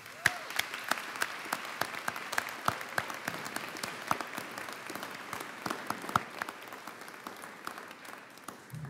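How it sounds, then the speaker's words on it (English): An audience at an awards convocation gives the faculty a round of applause, steady dense clapping with scattered louder individual claps throughout, no voices. "Let's give them a round of applause."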